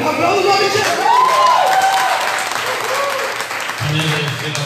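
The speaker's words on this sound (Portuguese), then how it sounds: "Aplausos o nome de Jesus." A church congregation applauds during a couples' gathering, a crowd clapping steadily and fairly close, with cheering voices and a brief shout rising over the claps and a low voice near the end.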